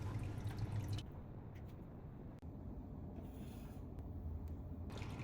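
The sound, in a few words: water falling onto stacked pebbles in fish tank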